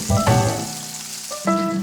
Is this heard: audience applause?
no